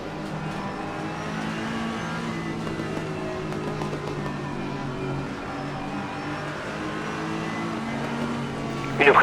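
An Aston Martin V8 Vantage race car drones steadily under load in a sim racing game, a sustained engine tone heard from inside the race with faint rival cars around it and a brief bump at the very end.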